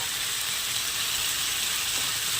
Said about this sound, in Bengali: ভালো করে কষে নেব মশলাটা ভাজা হয়ে গেছে দেখুন তেল ছেড়ে গেছে